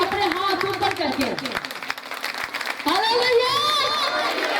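A congregation at a healing service in Asif Town claps and cheers in a dense burst of applause, with a voice speaking and calling out loudly over the crowd throughout.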